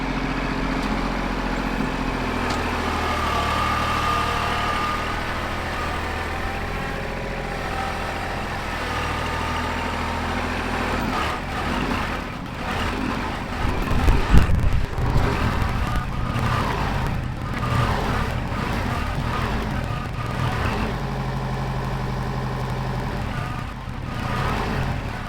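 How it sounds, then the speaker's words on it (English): A tractor engine runs steadily close by, a constant low drone that roughens and swells slightly midway before settling back into an even idle-like rumble. "I'm gonna get the tractor and we're gonna smooth all that out first."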